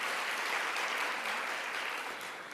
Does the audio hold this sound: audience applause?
yes